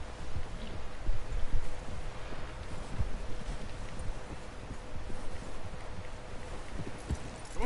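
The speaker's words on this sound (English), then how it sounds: "Someone help John down off this horse." Horse hooves in Red Dead Redemption 2 clip-clop at a steady walking pace over a soft rustling, windy background, fairly quiet and with no talking.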